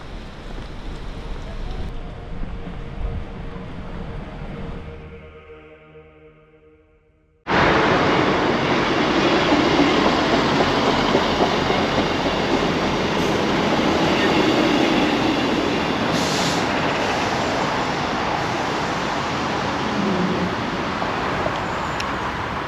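A passenger train on a journey toward Edinburgh runs along the rails. Quieter ambience cuts abruptly to a loud, steady, close-up roar of wheels and carriage noise that continues to the end.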